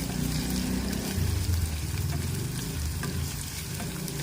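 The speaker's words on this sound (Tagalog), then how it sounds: "At pagsabayin na rin natin ang ating sibuyas at saka luya. Ayan, halo-halo." Onion and ginger frying in oil for squid adobo, a steady loud sizzle with stirring scrapes in the pan throughout, no voices.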